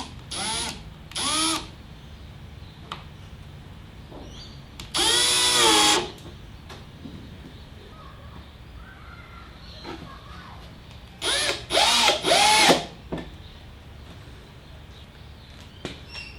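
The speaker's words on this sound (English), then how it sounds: "Let's put the first screw in." A power drill drives a screw into a wooden drawer in short bursts: two quick whirs, a longer steady run, then a cluster of revving pulses. Each burst is close and loud, with quiet gaps and faint clicks between them.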